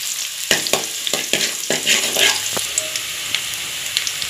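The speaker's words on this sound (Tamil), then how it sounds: "பூண்டை போட்டுக்கணும், ஆயில் ஊற்றி பூண்டை போட்டு" Garlic fries in hot oil with a bright, crackling sizzle, punctuated by several sharp scraping knocks of a spoon against the pan early on, then a softer steady sizzle.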